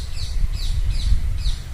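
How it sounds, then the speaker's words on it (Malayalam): A parrot on a river island gives four short, rising calls in a quick, even series, fairly distant above a low rumble. "തത്ത കരയാന്ന് വെച്ചാണ്."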